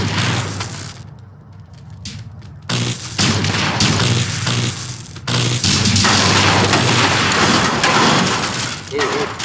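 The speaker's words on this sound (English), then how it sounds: "They found an ion cannon in James' pocket, so they started firing it at the robots." An ion cannon fires repeatedly at robots in the physics sandbox game People Playground, heavy booms and crashing blasts that come in loud bursts with short gaps.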